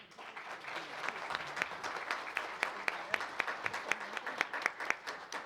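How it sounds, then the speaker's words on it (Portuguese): Applause from an audience at a rare-disease awareness event in Brazil, a dense patter of many hands building and holding steady for several seconds, moderately distant with faint crowd murmur beneath. "Vamos dar uma salva de palmas para a Isabel?"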